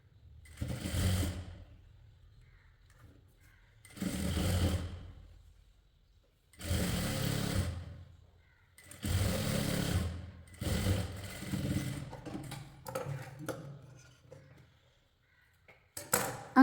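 A home sewing machine stitches lace onto the sleeve border of a short kurti, running in several separate bursts of steady whirring with silent pauses between them, then in shorter, choppier runs toward the end.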